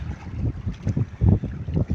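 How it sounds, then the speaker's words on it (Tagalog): Strong wind, amid rain, buffets the microphone on a fishing boat out on the water, a rough gusting rumble that surges and eases in waves with no voices. "grabing lakas ng hangin"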